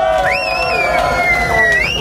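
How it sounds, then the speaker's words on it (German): Outdoor rally crowd cheering, with piercing whistles gliding up and down over a broad roar of voices for about two seconds. "Ein Applaus für den Erik!"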